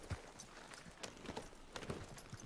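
Horse hooves clip-clop in a quick, steady rhythm in a roleplay video game on a ranch, a close, continuous trot with no talk.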